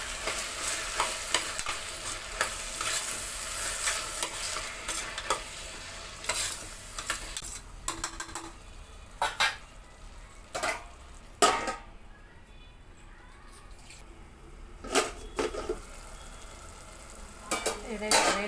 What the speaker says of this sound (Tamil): இடையில கொஞ்சமாக அப்படியே கிளறி விடுவோம், இல்லைன்னா அடி பிடிக்க ஆரம்பிச்சிடும்.